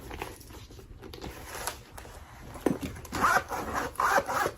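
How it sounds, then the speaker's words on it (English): A zipper on a medium Chanel Classic Flap bag in real leather, pulled in short rasping strokes that grow louder toward the end, close up and heard alone. "Like, the zipper was fine."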